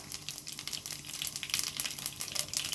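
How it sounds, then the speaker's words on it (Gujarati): Cumin seeds crackle and sizzle in hot oil, heated just after mustard seeds, for a bottle gourd dhokli curry; a steady, close frying hiss with small pops runs throughout without a break. "જીરું નાખું અને ગેસ ધીમો કરી નાખું"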